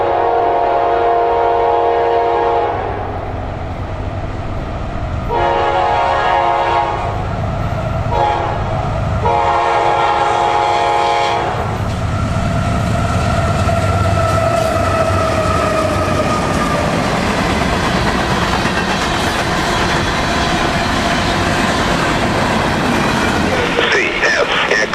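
Freight train led by locomotive TSXT 116 heading southbound, a loud horn sounding in long blasts over rumbling wheels and rail clatter, with a radio voice speaking over it.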